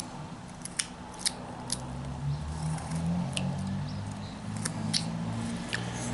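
Scissors make a series of crisp, irregular snips while a piece is trimmed during a carving project in a garage, each cut close and distinct against a quiet background hum.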